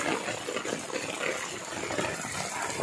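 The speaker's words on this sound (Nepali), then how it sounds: "पानी पनि निकै ठुलो पर्दैछ।" Heavy rain pours down steadily around someone walking under an umbrella after dark, a dense continuous rushing wash with no breaks and no talking.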